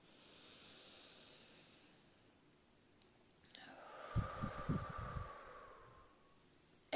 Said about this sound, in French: Encore, on inspire. Et expire.